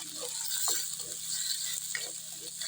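Tomatoes sautéing in a pan for pork adobo with kangkong, a soft steady sizzle close by with a few light scraping stirs.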